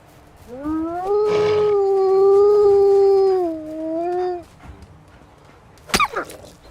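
A wolf in the medieval video game Medieval Dynasty lets out one long, loud, wavering howl that holds steady for several seconds before fading, followed by a short sharp clatter.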